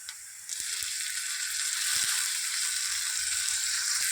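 Tomatoes sauté in a pan for eggplant bharit, giving a steady, fairly quiet hiss of sizzling oil that continues throughout, with a few faint stirring clicks.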